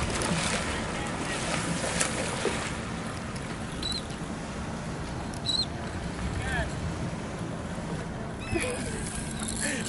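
A new 24-foot Yellowfin fishing boat runs on the open ocean, with a steady loud engine drone and rushing water and wind throughout, and voices faintly in the background.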